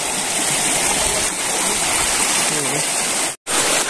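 Kalima waterfall pouring into a river in Mindoro, a steady broadband rush of falling water that runs evenly throughout, with a momentary dropout near the end.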